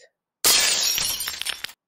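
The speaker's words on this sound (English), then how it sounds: "means something glass must have just broken" Glass shatters in one loud crash after a short silence, followed by a few scattered tinkling pieces settling before the sound stops.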